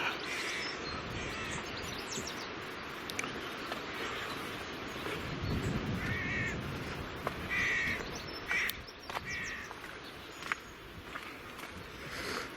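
Crows caw repeatedly at a distance over a steady outdoor rumble, with scattered calls of other birds in between.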